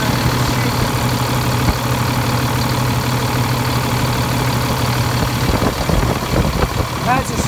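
An International 4300 flatbed truck's big engine idles with a steady low rumble, close by, while someone talks over it.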